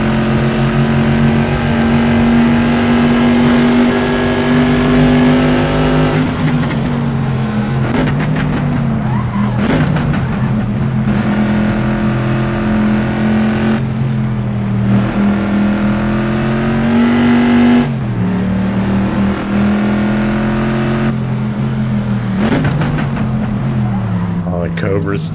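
Corvette C2 race car engine in Assetto Corsa at Watkins Glen, loud and continuous, with revs rising and dropping through repeated gear shifts as other racing engines join the mix.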